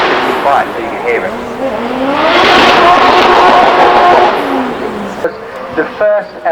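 A McLaren 675 LT, rear-wheel drive with a 3.8-litre twin-turbo V8, accelerates up the Shelsley Walsh hill climb at a Gumball 3000 event, swelling into a loud roaring pass before fading, with someone talking over it.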